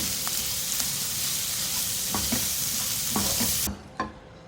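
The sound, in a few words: stirring chopped green chilies into masala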